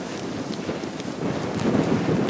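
Strong wind in the Alaskan outdoors buffets the microphone in a continuous low rumble and rush that grows a little stronger near the end, with no voices.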